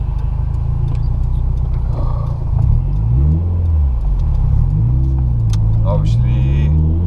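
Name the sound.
cars passing on street in Tallinn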